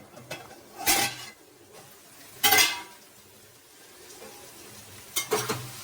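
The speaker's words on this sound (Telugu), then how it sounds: "ఎంతవరకు వచ్చిందో ఒకసారి లిడ్ ఓపెన్ చేసి చూద్దామండి" A lid clanks off a pot of simmering drumstick and tomato curry, three distinct metallic knocks spaced a couple of seconds apart, with a soft bubbling sizzle underneath.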